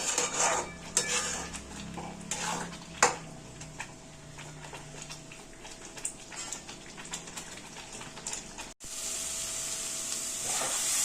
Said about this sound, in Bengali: এবার এটা বারবার নাড়তে হবে, কারণ যাতে এটা নিচে না বসে যায়।